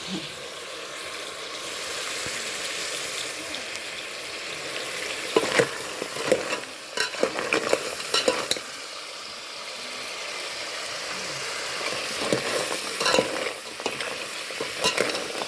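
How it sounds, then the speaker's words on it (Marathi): Crab curry with homemade masala being stir-fried in a pan on a village wood-fired chulha, giving a continuous crackling sizzle with bursts of scraping spatula strokes in the middle and again near the end. "परतून परतून घ्यायचं म्हणजे त्याच्यामध्ये कसं होतंय सगळं माल मसाला जातोय."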